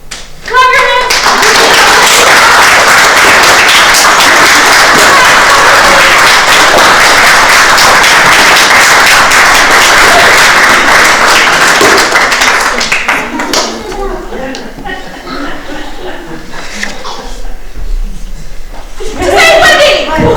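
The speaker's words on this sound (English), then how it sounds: "Clap your hands." Theatre audience at a closing-night performance of the play Peter/Wendy clapping their hands loudly and continuously, then thinning out into scattered claps as voices on stage and in the house take over.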